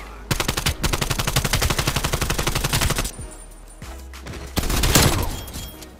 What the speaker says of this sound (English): Can I stop shooting?